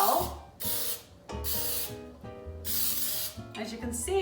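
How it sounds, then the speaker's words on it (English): Baking spray is sprayed into a bundt cake pan in a series of hissing aerosol bursts, about four of them, close and fairly loud, with gaps between them and faint background tones. "spray this pan with our trusty baking spray"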